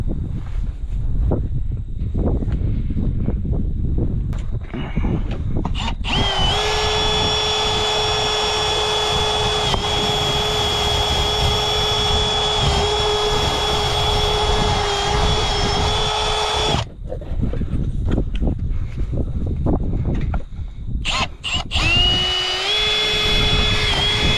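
A power drill running at an abandoned ranch, a loud, steady high whine held for about ten seconds, then short bursts of drilling amid clatter and handling noise.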